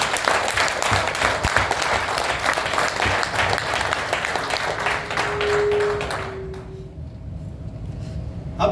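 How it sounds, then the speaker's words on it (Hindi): An audience at a training seminar claps loudly and continuously, then the sound cuts off abruptly into near quiet with a faint hum remaining. "असली ताली बजती है जब हाथ कंधे से ऊपर और जोर से एक बार मारना है।"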